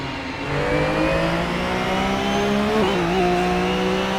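A Porsche race car accelerates hard out of a corner at Daytona, its engine note climbing steadily through the revs before a quick shift, loud and close throughout.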